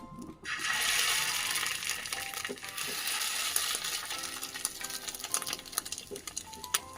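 Fish roe fritters fry in hot oil, starting with a sudden loud sizzle that settles into a steady crackling hiss scattered with sharp pops.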